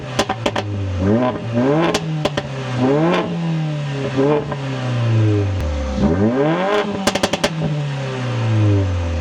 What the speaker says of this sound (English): Oh, and also we have a sports exhaust.